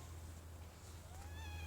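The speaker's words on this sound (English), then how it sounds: "these are my cats." Pet cats meowing near the porch of a house, a short rising meow emerging faintly near the end over a steady low hum, with no talk.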